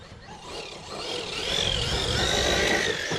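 Traxxas Maxx v2 RC truck's stock motor running on 6S, a high electric whine that builds and holds steady at a fairly loud level, with a rough rolling rumble beneath.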